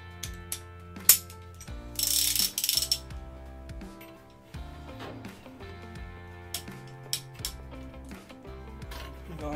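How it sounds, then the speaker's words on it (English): A torque wrench ratchets while a Surefire Warcomp flash hider is fitted with a flash hider wrench, giving quick runs of crisp mechanical clicks up close along with handling noises. "We're gonna go ahead and just put that on our torque wrench here."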